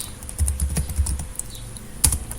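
Keys clack on a computer keyboard as a Linux command is entered, a quick irregular run of close, crisp taps with one sharper strike near the end, and no talking.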